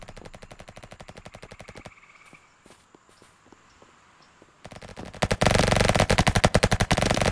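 Rapid SMG fire in a Roblox first-person shooter game, fast regular bursts of shots, a short pause with scattered footsteps, then a louder sustained volley close up.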